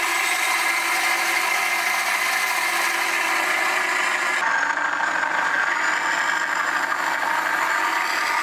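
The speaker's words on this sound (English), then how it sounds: "The engine sound used here is recorded from a Yam Z7511 engine." A steady engine drone, recorded from a Yam Z7511 engine, plays through an RC tractor's speaker throughout, shifting slightly in tone partway through, continuous and fairly loud with no voices.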